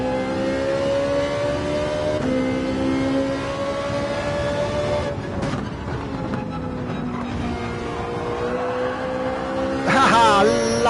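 A Ferrari race car in Gran Turismo 7, driven with traction control off, holds a steady engine drone with shifting pitch, loud and continuous, while someone talks over it.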